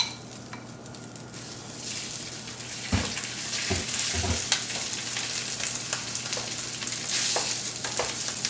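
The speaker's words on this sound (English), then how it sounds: "we've got some heated oil and we have our cups of rice here. We're going to put that right into the pan." Cooked rice frying in hot oil in a pan, a steady bright sizzle that swells and grows louder over time, with a few sharp knocks and stirring scrapes of a utensil against the pan, no talking.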